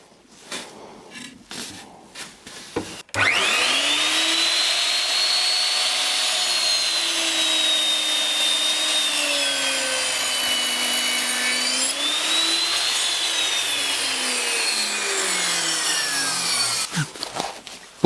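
A Ronix miter saw slices through wood in one long, steady cut, its loud whining motor holding a sustained tone after a few brief handling knocks, then spinning down at the end.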